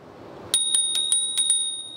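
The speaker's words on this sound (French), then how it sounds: "C'est la sonnette intégrée au frein." Bicycle bell built into the brake lever of a fat e-bike, rung about six times in quick succession, bright metallic pings close up in a quiet setting.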